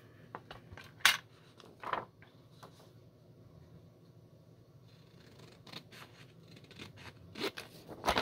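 Quiet snips and metallic clicks of scissors come in scattered bursts over a low hum, close and fairly faint.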